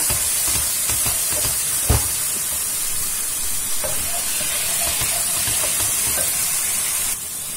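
Tomato concentrate cooked with spices sizzles and hisses steadily in a pan, a constant frying crackle with one sharp clack partway through and no speech.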